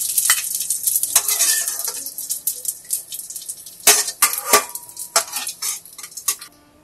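Ghee sizzles steadily in a single pot of roasting semolina for sooji halwa, with scraping stirs and sharp metal clinks of a spoon against the pan, several louder knocks near the middle, no voices.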